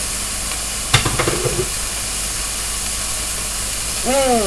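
Vegetable rice with mushrooms frying in a pan on a home kitchen stove, a steady hiss and sizzle with a brief scrape of stirring near the start and a voice speaking at the end.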